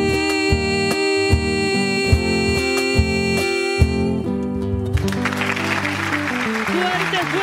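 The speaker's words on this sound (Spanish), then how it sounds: "Fuerte esos aplausos para recibir a esta diosa guaraní, Rosanita Beatriz." Audience applause for a contestant on a televised talent show, a burst of clapping that swells in the last few seconds after music with strong beats, while a voice talks over it.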